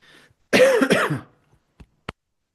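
A single harsh cough with a throaty rasp, close to the mic, followed by a couple of faint clicks in near silence.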